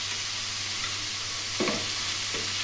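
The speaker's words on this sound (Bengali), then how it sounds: "মিডিয়াম ফ্লেমে এগুলো বারবার করে নেড়ে নেড়ে ভেজে নিতে হবে" Ash gourd pieces frying in oil with turmeric over medium flame, a steady close sizzle with a couple of brief scraping stir strokes near the end.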